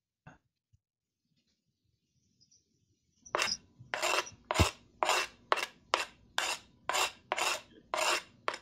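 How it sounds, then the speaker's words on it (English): After a few quiet seconds, a knife chops rhythmically on a plastic cutting board, about a dozen sharp, close strokes at a steady pace. "Sorry, that may sound so loud. It's a little plastic cutting board."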